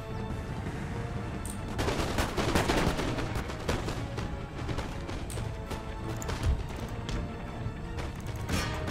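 Canister shot artillery firing in Empire Total War during a battle, a dense ongoing clatter of cannon and musket fire with occasional heavier booms, moderately loud and continuous, no talking.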